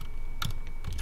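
Short bursts of typing on a computer keyboard while entering a query in SQL Server Management Studio: two quick clusters of key clicks, close and clear over a quiet room hum.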